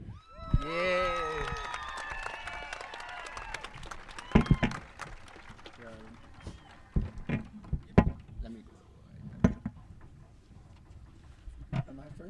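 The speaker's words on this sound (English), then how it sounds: "Seniors, we know you're here, so stand up. Let's hear your cheer." Graduating seniors at a high school graduation ceremony cheer and applaud together, a crowd roar with shouting voices near the start, then scattered sharp claps and whoops in a large reverberant space.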